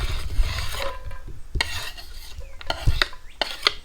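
Chopped onions tumble into a camping pan at a campground in the morning, with a few scraping, clattering knocks of food and utensil against the metal and a light rasp, close and moderately loud.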